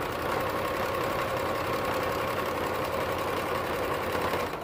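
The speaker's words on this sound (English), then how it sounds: "And just sew right over your tag." A sewing machine stitches straight over a fabric tag while making high-waisted bummies, giving a steady, even mechanical whir with a fast motor rhythm at close range, uninterrupted and without talk.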